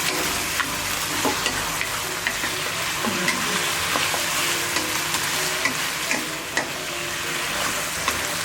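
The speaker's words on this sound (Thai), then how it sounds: "ผัดจนเครื่องปรุงเข้ากันดี" Chicken giblets stir-frying with chili and onion in a hot pan, a loud continuous sizzle with frequent sharp clacks of a spatula against the pan, close up and with no one talking.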